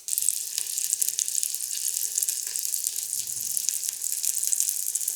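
Three burger patties sizzle in sunflower oil in a pan, with a bright, steady crackle and hiss continuing alone throughout, close and moderately loud.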